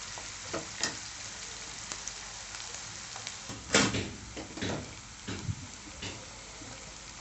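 Chopped onions sauté in a pan for fenugreek kuzhambu, giving a soft, steady sizzle with intermittent scrapes and stirring knocks, moderately close and fairly quiet.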